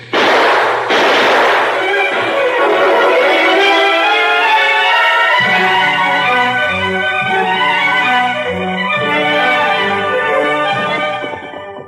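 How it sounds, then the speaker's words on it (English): Gunshots from an old Lone Ranger radio drama, heard as a few sharp bangs at the start before a swelling dramatic music score takes over and plays loudly to the end. "Shots seem to be coming from the direction of our camp."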